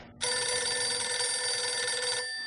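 A telephone bell rings in one long, loud, steady burst inside the video game GTA IV, then cuts off abruptly with nothing else heard.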